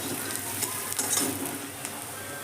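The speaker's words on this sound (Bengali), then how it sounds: "এটা নেড়ে নেব গ্যাসের ফ্লেম কিন্তু কমিয়ে বাড়িয়ে কমিয়ে বাড়িয়ে ভাজতে হবে" Spices with a little Kashmiri chili powder stirred and frying in a pan over a gas flame, a steady close sizzle with soft scraping of the spoon, no voices.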